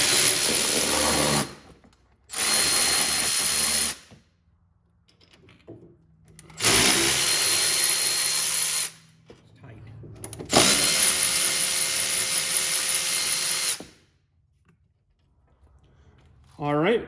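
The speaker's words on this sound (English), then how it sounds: "We just did that with a 6-inch extension, a long socket, and our ratchet." A ratchet driving a long socket on a 6-inch extension spins out bolts from a Chevrolet HHR front wheel hub, coming as several loud, sustained whirring bursts separated by quiet gaps.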